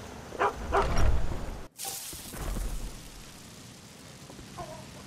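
A dog in the video game Skyrim barks a few times, sharp and fairly close, followed by a swishing movement sound and a fainter bark near the end, with no speech.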